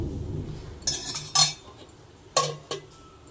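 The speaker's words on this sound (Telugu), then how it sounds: "ప్యాన్ పెట్టేసి కొంచెం ఆయిల్ వేసుకుందాం. ఆయిల్ లేదా నూనె" A metal pan is set down on a stove and oil added for cooking paneer tikka, with a few sharp clanks and clinks of metal utensils against the pan over low kitchen background noise.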